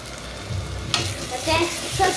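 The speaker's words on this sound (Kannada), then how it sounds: "ಮತ್ತೆ ಸ್ವಲ್ಪ ಮಿಕ್ಸ್ ಮಾಡೋಣ." Ginger garlic paste fries in a pan as a spoon stirs it, giving a close, steady sizzle with scraping strokes and a sharp clack near the start of the movement, without any voice.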